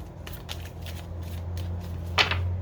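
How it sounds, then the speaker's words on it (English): Soft, repeated riffling of tarot cards being shuffled by hand, quiet and close, with a brief sharper snap near the end. "Now, let's keep shuffling."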